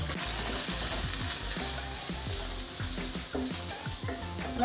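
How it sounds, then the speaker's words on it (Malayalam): Two finely chopped shallots sizzling in hot oil, a steady loud crackle with the periodic scrape and clatter of stirring, heard close and without talk. "എണ്ണ ചൂടായി അതിലേക്ക് ഞാൻ 2 നീരുള്ളി ചെറുതായിട്ട് മുറിച്ച് 2 നീരുള്ളി ഇടുന്നുണ്ട്"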